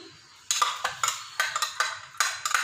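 Yogurt is spooned into a bowl while preparing chicken drumsticks, with a series of close, quick scraping clinks of a spoon against the bowl in short bursts.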